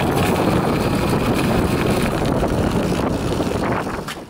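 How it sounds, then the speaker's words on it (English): Bafang BBSHD e-bike mid-drive motor starting up on throttle only, a loud continuous broadband whir and rush that holds steady, then eases off near the end. "Now starting noise with the BBSHD"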